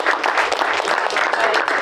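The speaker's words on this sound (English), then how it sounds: "Let's give her a round of applause." A live audience at a pizza-making event bursts into dense, steady applause that fills the whole moment, loud and continuous with no pauses.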